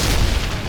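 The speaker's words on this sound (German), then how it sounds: "Granate." A grenade in Medal of Honor Airborne blows up close by: one short, loud, broad boom that fills the whole moment.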